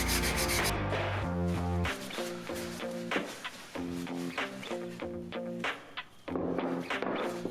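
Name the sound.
rubbing wax onto Jesmonite pieces to seal them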